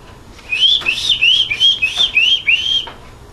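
A person whistles a short, warbling tune of rising and falling notes, close and clear, with faint background hiss.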